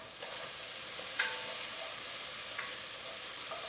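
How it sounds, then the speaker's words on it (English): Bacon, onion and celery frying in a pan hiss steadily while a utensil stirs and scrapes through them, with a few brief clinks, up close and without talk. "Let me stir this up. I don't want to burn nothing."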